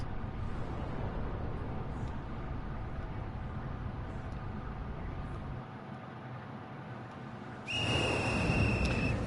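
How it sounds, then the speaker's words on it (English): A monstrous little raincoat-clad visitor in Ghostwire: Tokyo blows a whistle: one steady high blast near the end, cutting over a low, continuous ambient hum. "As the monstrous little raincoat visitor blows his whistle, he steps back into the shadowy darkness."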